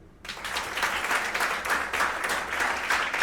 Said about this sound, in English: Give me a clap if you're from abroad